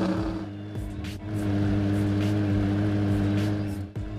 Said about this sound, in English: There it is, you can hear the idle engine sound